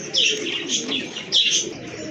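A pigeon, one of a pair of fancy, large breed birds, coos in soft repeated phrases at close range, with faint chirps and no talk.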